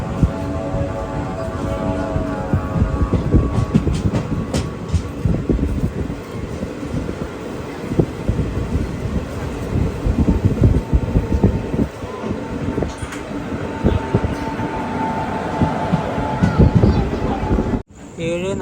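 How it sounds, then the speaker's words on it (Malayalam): The Maveli Express pulling into Pazhayangadi railway station: a loud, close, continuous rumble of carriages and rhythmic wheel clatter over the tracks, with wind buffeting and occasional muffled voices. "ട്രെയിൻ ഇതാ പഴയങ്ങാടി റെയിൽവേ സ്റ്റേഷനിലേക്ക് എത്തിയിരിക്കുകയാണ്"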